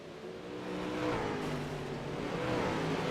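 Race cars in a Lightning heat race roar down the front stretch toward the checkered flag, a sustained loud engine drone with rising revs and layered motors blending together, no voices over it.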